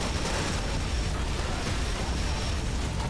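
A tank explodes in the video game Serious Sam Siberian Mayhem, a loud, sustained roaring blast with dense rumbling debris that fills the whole moment without any talking.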